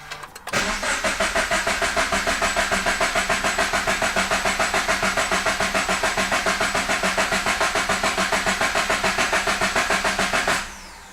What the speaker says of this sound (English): we're just going to start the engine, and then it's going to start, and then it's going to stop